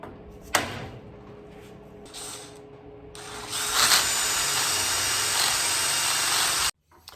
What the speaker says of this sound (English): We're going to drill the hole and get it right.